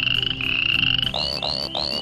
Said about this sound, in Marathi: बेडकांची शीळ.